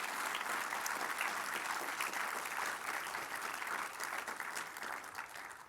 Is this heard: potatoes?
no